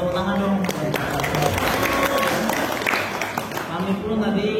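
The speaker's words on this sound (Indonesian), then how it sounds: "tepuk tangan buat Mas saksofon" Crowd applause for a saxophone player at a Javanese wayang performance in Gedung Monod Diephuis: dense, steady clapping throughout, with a voice talking over it.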